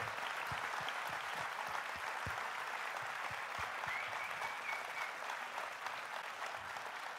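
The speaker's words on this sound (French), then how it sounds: "Un tonnerre d'applaudissements, s'il vous plaît." Steady applause from a conference audience at a party congress round table on schools, dense clapping with a few louder individual claps standing out, fairly faint overall and sustained throughout.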